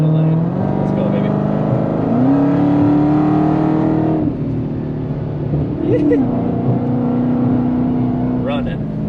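A tuned Dodge Challenger Redeye accelerates hard from inside the cabin, with a loud, continuous engine roar that climbs in pitch through gear changes, and a voice occasionally heard over it.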